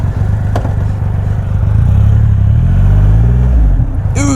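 A Triumph Rocket 3 motorcycle engine revs hard close by, a loud throbbing roar that swells and falls over a few seconds while the bike torques over on its mount.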